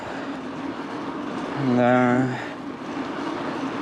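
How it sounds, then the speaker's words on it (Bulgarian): A train passes by a cyclist riding near Slivnitsa, Bulgaria, its rumble and a brief horn-like tone swelling and fading within a few seconds over steady road and wind noise, with a short spoken word. "Влак, влак, влак. Влак отляво, влак отдясно"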